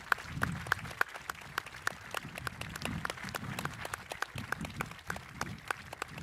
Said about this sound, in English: We just want to give you a round of applause.